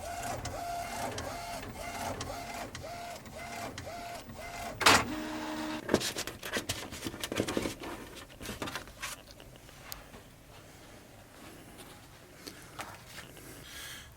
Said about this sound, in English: let's see the magic moment when the print comes out